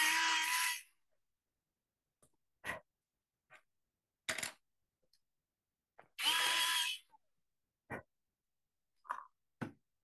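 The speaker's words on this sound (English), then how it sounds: "I do have Gina's favorite sharpener here" Orbit pencil sharpener working on colored pencils: two short loud grinding bursts, near and alone, with scattered small clicks and taps in a quiet room.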